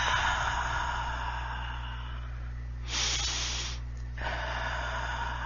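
A deep, slow breath drawn in and let out during a guided relaxation exercise on inflammation and lymphology, heard as two soft airy swells of breathing over a steady low hum, with no talking.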